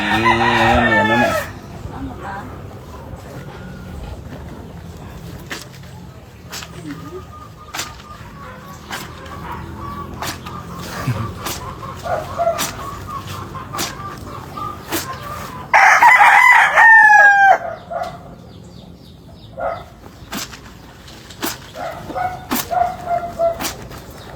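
A rooster crows loudly nearby, with chickens clucking and fowl chatter throughout, and a second burst of crowing partway through over a steady outdoor background.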